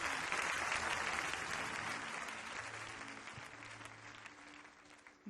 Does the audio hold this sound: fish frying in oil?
no